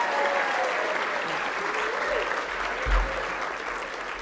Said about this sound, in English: Let's have a big round of applause for our Hall of Famers